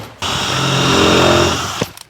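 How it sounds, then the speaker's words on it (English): A power drill bores through plywood into the timber behind it, a single steady whirring burst of about a second and a half that stops abruptly with a few small clicks, close and loud. "So drill that up."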